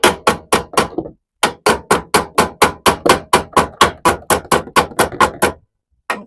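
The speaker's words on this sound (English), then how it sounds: "I think I'm gonna have to get a hammer." Repeated hammer blows on the fender of a Sprinter van, a steady run of about twenty sharp, loud metallic strikes with a short pause after the first few and another near the end.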